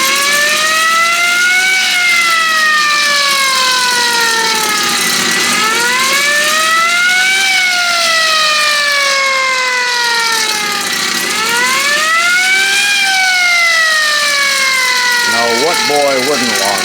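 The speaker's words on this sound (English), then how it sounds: "I'm going to rub it on the belt of my Logan lathe" A mystery tool rubbed against the moving belt of a Logan lathe gives a loud, continuous siren-like whir that rises and falls in slow repeating sweeps.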